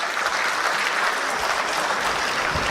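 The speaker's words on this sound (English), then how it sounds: "Can I request everyone present in the hall to give a big round of applause to sir?" Dense, steady applause fills a conference hall at a national tax conference in Jaipur, many hands clapping close and loud throughout.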